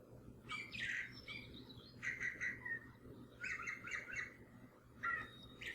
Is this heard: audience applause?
no